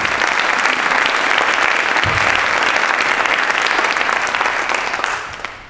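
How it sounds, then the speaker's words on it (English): A crowd at a talk bursts into loud, dense applause that holds steady for several seconds and fades out near the end, with no speech over it. "So give yourselves a round of applause for showing up."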